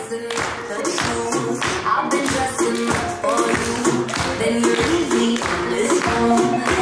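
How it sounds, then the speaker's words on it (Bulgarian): An audience of parents at a first-grade school celebration claps, with steady, dense, rhythmic applause from many hands that holds at an even level throughout. "Пляскаме!"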